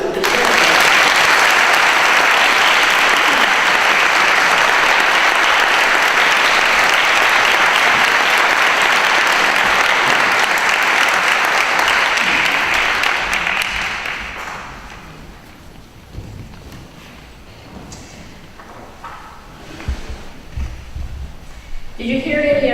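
A church congregation applauds loudly and steadily for about fourteen seconds, then the clapping fades into quiet room murmur and light rustling.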